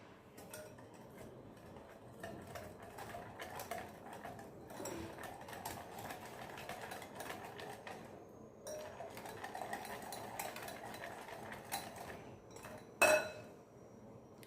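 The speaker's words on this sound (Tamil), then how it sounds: "இப்போது விஸ்கு வச்சுட்டு நம்ம கலந்து கொடுத்துக்கலாம்." A whisk beats jaggery batter for a lemon semolina cake in a bowl, a quiet, rapid, continuous clinking and tapping with brief pauses, ending in a sharp metallic knock against the bowl rim.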